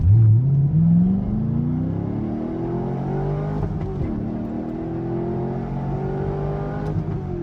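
A C5 Corvette's engine revs hard during a burnout, a loud rising roar that climbs in pitch then holds a strained, wavering drone with tire-spin whine, close up and without speech.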